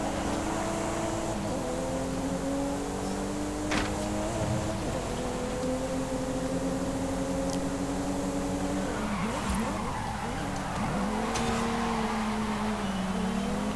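A car drifts in Forza Horizon 5 with a steady engine drone and long tire squeals that rise and bend as it slides, loud and continuous throughout.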